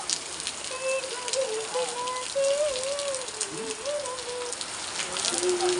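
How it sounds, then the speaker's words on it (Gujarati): Heavy rain pours steadily in a village, a dense, close hiss running throughout, while people talk over it. "એટલો વરસાદ ચાલુ થઈ ગયો છે"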